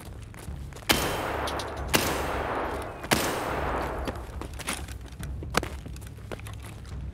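Gunfire in the video game Escape from Tarkov: a few sharp, well-spaced shots, each followed by a long echoing tail, then fainter scattered shots over low background rumble.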